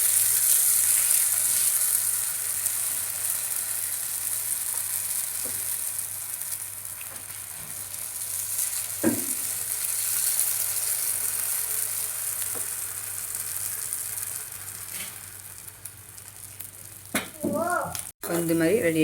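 Kuzhi paniyaram batter frying in sesame oil gives a steady, close sizzle that hisses on throughout, with a few faint clinks of the pan.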